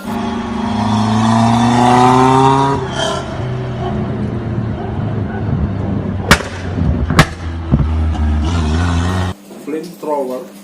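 A carbureted car engine fitted with a Viper twin ignition module revs loudly and close, with rising and falling engine tones, two sharp exhaust cracks or pops mid-way, and someone speaking over it.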